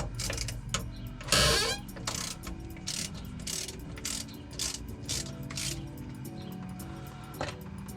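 Fuel filter drain being loosened on a 2017 Duramax 2500HD, quick ratcheting clicks and small metallic tool sounds, quiet and close, with one brief louder rasp near the start.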